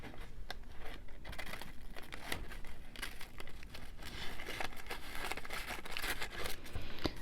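Scissors snip paper pieces for a junk journal, with irregular crisp cuts and paper rustling and crinkling close by throughout, with no talking.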